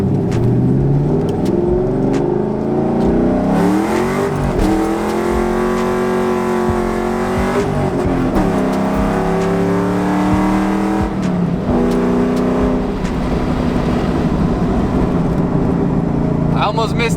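A 700hp car with a built Hanlon Motorsports transmission launches hard with its tires spinning. The loud engine drone climbs in pitch through each gear, breaking briefly at shifts roughly every three to four seconds.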